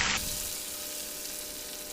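Garlic and curry leaves sizzle in hot oil, a loud dense hiss with a sharp initial crackle as the leaves hit the pan, then a steady even frying spatter.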